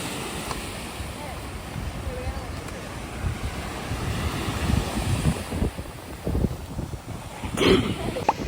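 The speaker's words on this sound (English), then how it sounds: "We somehow made it to the beach." Waves breaking on a beach under steady wind noise on the microphone, a continuous low surf rumble with a few louder gusts near the end, close and moderately loud.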